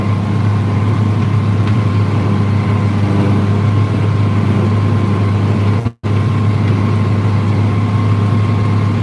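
John Deere 9300 tractor running steadily during fall tillage, a loud, continuous low diesel drone with a brief cutout partway through.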